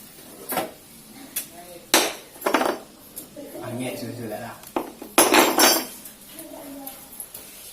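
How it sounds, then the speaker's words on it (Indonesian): Metal burner parts of a gas stove are taken apart, bringing loud, irregular clanks and rattles close by, with a voice talking in between. "Jadi langkah selanjutnya tuh kita bongkar semua komponen gas kompor gas ini. Kita lepaskan banernya."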